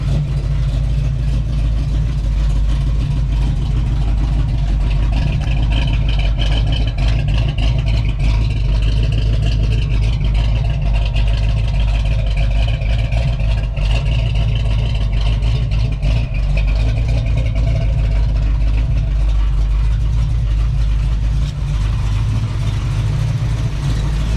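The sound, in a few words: big block V8 engine idling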